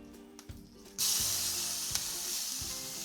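Salmon fillet frying in a pan, a loud hissing sizzle that swells suddenly as the fish is flipped onto its other side and keeps hissing steadily after, with a few soft knocks before.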